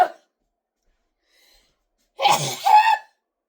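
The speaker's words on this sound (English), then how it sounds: "now that I'm done sneezing" A single loud, close sneeze bursts out after a near-silent pause, with a short breathy onset and an explosive release, preceded by a brief fade of sound at the very start.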